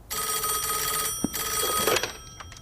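A telephone rings out after a call is dialed, a steady electronic ring tone repeating twice close up, with a brief click between rings and no voices.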